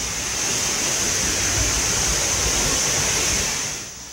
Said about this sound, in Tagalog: Sa Bulawan Falls sa Dinalungan